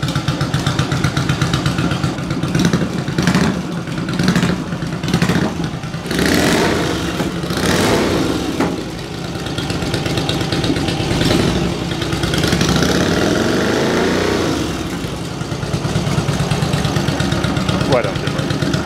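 A shed-built Yamaha TR1 motorcycle engine idles loudly nearby and is blipped through repeated revs, rising and falling in a rhythmic pattern, with people talking over the noise.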